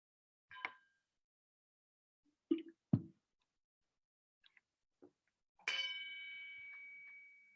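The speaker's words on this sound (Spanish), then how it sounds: "Voy a sonar la campana para comenzar la meditación." A meditation bell is struck once to begin a session, ringing out as a clear, sustained tone that slowly fades, after a few faint clicks and knocks in an otherwise quiet room.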